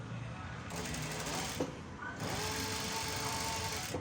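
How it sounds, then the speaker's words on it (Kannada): A sewing machine stitching folded blouse fabric runs in a steady, continuous whir close by, pausing briefly in the middle before starting up again at an even pace. "ಈ ರೀತಿ ಫೋಲ್ಡ್ ಮಾಡ್ಕೊಳ್ತೀನಿ ಫೋಲ್ಡ್ ಮಾಡಿಕೊಂಡು ಸ್ಟಿಚ್ ಹಾಕ್ಕೊಳ್ತೀನಿ"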